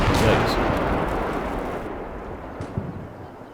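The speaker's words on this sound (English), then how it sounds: "There was a tank down here that shot at this guy" A tank fires in the war game Combat Mission Black Sea: a loud, rumbling cannon blast opens the moment and its roar decays slowly over several seconds, with a smaller thump near the end.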